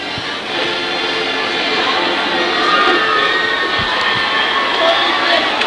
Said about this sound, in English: asking for the crowd to get up to make some noise late in the ball game